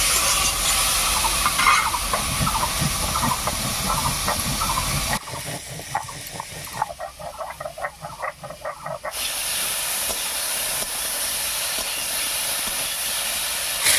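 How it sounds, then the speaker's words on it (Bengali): Ridge gourd and potato fry in oil over high heat with a strong, steady hiss; the sizzle drops away briefly midway into softer crackling, then resumes at full strength. "ঝিঙে আলুটা ভাজার সময় উনুনের আঁচটা কিন্তু বাড়িয়েই রাখতে হবে"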